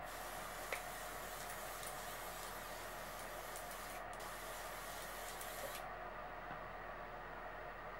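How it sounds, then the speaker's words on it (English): Makeup setting spray misted onto a brush, a steady airy hiss filling the first six seconds at close range, then cutting off into quiet room tone. "you can spray directly onto a brush and buff it in"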